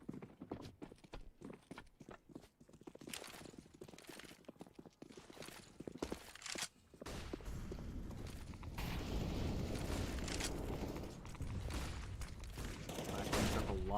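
Rapid AK-47 gunfire in CS:GO during a competitive match, sharp bursts of shots with footsteps early on, then denser continuous game noise and muffled commentary underneath in the second half.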